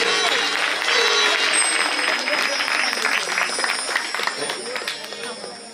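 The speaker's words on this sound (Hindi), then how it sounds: "तो जोरदार ताली बजाओ इन सबके लिए।" Applause from a seated audience at a Bhagwat Katha religious discourse, dense and steady clapping that fills the whole stretch at close range and fades slightly toward the end.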